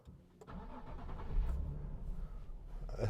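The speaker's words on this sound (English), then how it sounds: "And this engine, the sound is absolutely awesome." A 2014 Nissan 370Z GT with a 3.7-litre V6 cranks with a short starter whirr, catches and settles into a deep rumbling idle with a slight rev, close and clear with no talking.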